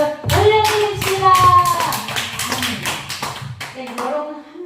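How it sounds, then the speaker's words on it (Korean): A church congregation claps together during a service, a dense run of hand claps under a voice with organ-like tones, steady throughout and tapering toward the end. "우리 하나님께 감사의 영광의 박수를 올려드립시다"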